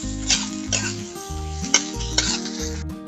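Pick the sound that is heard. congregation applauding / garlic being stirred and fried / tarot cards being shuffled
garlic being stirred and fried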